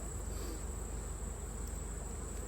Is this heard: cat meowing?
no